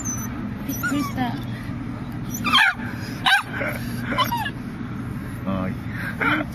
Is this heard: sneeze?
no